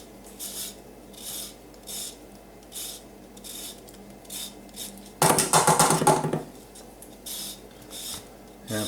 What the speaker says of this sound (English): we're going to zest the lemon into the flour. And this is a zester.